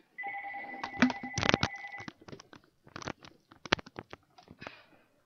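A telephone rings for an incoming call during a live stream, its steady electronic tone sounding twice in the first two seconds, followed by a run of sharp clicks and taps.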